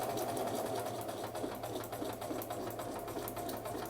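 A sewing machine stitches slowly under careful foot-pedal control, a soft, steady mechanical whirr with fine rapid needle ticks, faint and continuous.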